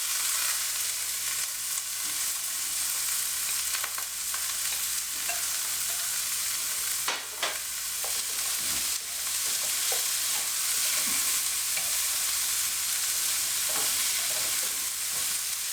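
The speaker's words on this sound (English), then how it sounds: "Gonna swirl. Onions and peppers in." Onions and peppers fry in a swirl of oil in a pan, a loud continuous sizzle broken by spoon stirs and sharper crackles along the way.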